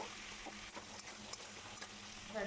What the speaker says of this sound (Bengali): একটু কালো জিরে তার মধ্যে আলুটা দিয়ে একটু নাড়াচাড়া করে নেবো